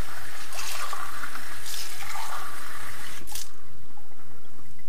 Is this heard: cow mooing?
no